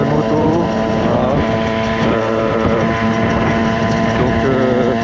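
A 50cc motorcycle with a newly fitted engine, restricted to 7500 rpm by its CDI, runs loudly and steadily close by, a continuous buzzing drone with slight pitch wavering and some wind buffeting.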